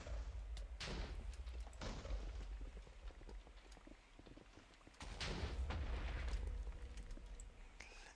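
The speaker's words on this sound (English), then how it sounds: "Everything's exploding." Explosions in a Minecraft modpack game, a series of loud booming blasts, about five bursts spaced irregularly over a rumbling background, some overlapping in a chaotic chain.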